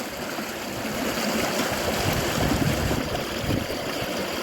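Water sloshes and swirls steadily in a gold pan as crevice material from a Scottish stream is washed, a close, continuous watery churning with no talk.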